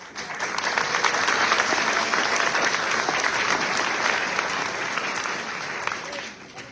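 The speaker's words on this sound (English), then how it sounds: "A big round of applause for the volunteers who can help with this." Crowd at a congressional district town hall applauding volunteers, steady, full clapping that builds fast, holds for several seconds and then tails off.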